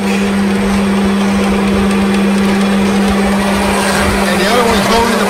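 A steady machine whine with a constant low hum, continuous and fairly loud, as a lathe tool cuts through UHMW plastic without pause.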